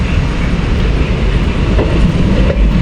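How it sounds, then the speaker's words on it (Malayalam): A passenger train on the Nilambur to Palakkad line runs at speed, heard from inside a general-class carriage as a loud, steady rumble with rattling wheels and rail clatter, no talking. "അടിപൊളിയായിട്ട് ഈ ഒരു ടൈമിലൊക്കെ ട്രെയിൻ യാത്ര"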